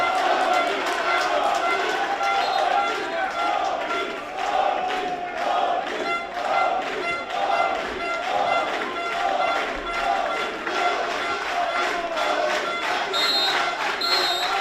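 Tolmin football supporters cheer and shout on the pitch after their team's 3:2 away win at Gorica in the Slovenian second league, a loud, steady crowd roar with scattered yells and a commentator talking over it.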